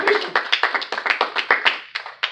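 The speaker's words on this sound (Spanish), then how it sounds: "Denos palmas al Rey en esta hora." Church congregation clapping for the King during a Spanish-language sermon, a dozen or so sharp, uneven hand claps in quick rhythm, close and fairly loud with no talking.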